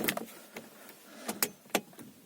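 An electric fuel pump priming in a Daewoo Lanos 1.5 after six months sitting unused, a faint whir with a few soft clicks and knocks, close and quiet, no talk.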